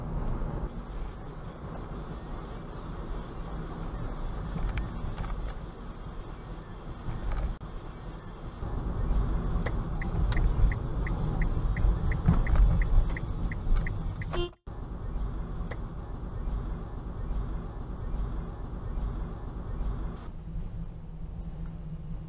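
A car drives slowly around a parking lot at night. A low, steady engine and road rumble runs throughout, quiet and muffled, with a short run of faint ticking partway through.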